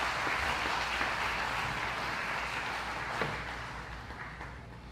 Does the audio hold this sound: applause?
yes